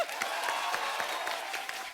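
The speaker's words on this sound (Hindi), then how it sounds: "पहले तो इसके लिए तालियां हो जाएं।" Studio audience applause on The Kapil Sharma Show, a steady dense wash of many hands clapping at moderate loudness, with no talk over it.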